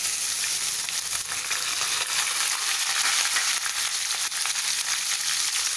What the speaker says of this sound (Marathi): 4 तेजपत्ता, मस्त याचा वास येईपर्यंत तेलात हलवून घ्यायचं आहे